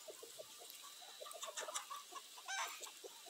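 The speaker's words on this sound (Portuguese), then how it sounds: "As galinhas também, ó." Chickens cluck in a farm enclosure shared with other animals, a busy cluster of short soft clucks and chirps at close to middle distance, with one louder squawk near the end.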